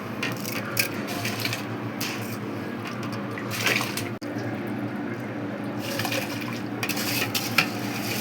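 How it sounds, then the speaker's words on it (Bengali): Rice goes into a pot of rolling boiling water for homemade chicken biryani and is stirred. The stirring and scraping are close and steady, with bubbling water and clinks of the pot. "এখন দিয়ে দিব চাল"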